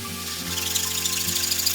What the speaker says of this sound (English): So here I'm just sawing off a bit of the guitar to make it more compact.